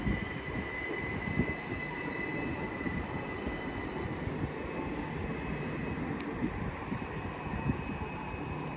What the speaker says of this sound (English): On the way is 377 430 as 377 703 sets up for a departure bound for Watford Junction